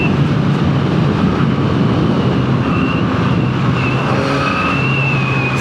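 A Yamaha MT-09 motorcycle engine drones continuously while riding on a track, steady and loud, heavily mixed with wind rush across the microphone and a faint higher engine tone rising near the end.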